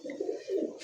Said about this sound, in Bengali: এটা হচ্ছে অরিজিনালি তুরি বাস, একটা সিঙ্গেল একটা কবুতর